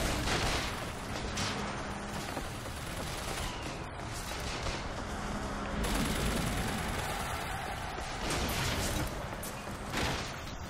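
Heavy sustained gunfire crackles through a BioShock Infinite battle, loud and dense with rapid automatic bursts and booming shots over continuous game noise.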